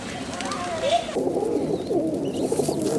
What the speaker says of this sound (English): It seems like the pigeons have all gathered here because of the relative quiet compared to all other areas of the city.